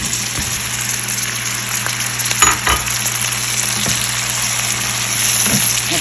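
Tomatoes fry in a pan of masala for butter paneer, a loud continuous sizzle with a steady hum underneath and a few brief scrapes and clatters from stirring.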